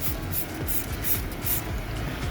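Low-pressure water spray rinsing a truck: a steady hissing wash with faint pulsing, fairly quiet and alone.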